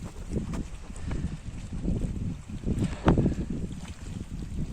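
Wind gusts through a pine forest in a rough, low rumbling buffet against the microphone, rising and falling unevenly with a few sharper gusts, fairly close and steady in level.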